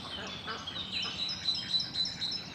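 Ducks on a homestead pond giving several quick nasal quacks and calls close by, overlapping in an uneven run above a faint outdoor background.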